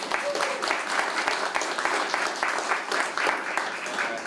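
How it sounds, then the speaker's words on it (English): An audience at the Boston Main Streets awards ceremony gives sustained applause for several seconds, with a dense crowd of hands clapping in a large room. "let's give her a round of applause"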